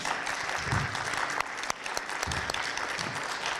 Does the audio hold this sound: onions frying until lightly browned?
no